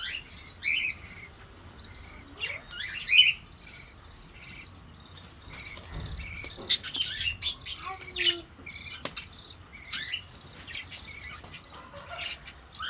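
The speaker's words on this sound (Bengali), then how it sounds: "এটা হলো পুরুষ বাজিগার আর ভেতরে একটা মা বাজিগার" A male and a female budgerigar chirp and squawk at their nest while cleaning it out. The calls are sparse, sharp and fairly close, with soft rustling and faint insect-like background noise.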